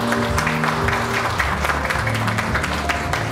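Audience applause welcoming a product manager to the stage at a Lincoln Nautilus media showcase, steady, dense clapping from a crowd over sustained background music.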